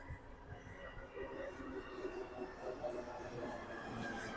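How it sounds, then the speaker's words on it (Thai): A Mexico City metro train rumbles steadily into a station, with a faint high squeal of wheels above the low roar and people talking in the background. "รถไฟมาพอดีเลยตอนนี้"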